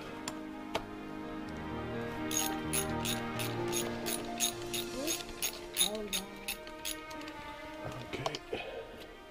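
A ratchet wrench loosens the spark plugs on a Saturn 1.9 DOHC engine on a cold day, giving bursts of rapid metallic clicking in quick runs, fairly close and clear, with faint movement and handling noise between strokes.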